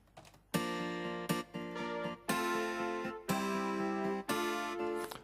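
An acoustic guitar strums chords in bright, ringing bursts, some quick and choppy and others held longer, in a loose rhythmic pattern.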